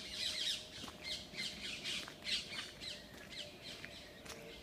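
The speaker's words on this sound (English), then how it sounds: "those birds don't want me here." Birds squawk repeatedly in a forest near dusk, harsh calls coming in bursts every second or so over a steady background hiss, fairly close and loud.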